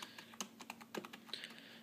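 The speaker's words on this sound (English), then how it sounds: "this is just a typical, normal-ass keyboard" A Logitech K120 computer keyboard is typed on in quick, uneven bursts of light plasticky key clicks, close and fairly quiet, with no speech.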